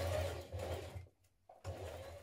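A sewing machine stitches ruffle dress bodice panels in place, running steadily close up with a brief pause midway before the stitching resumes.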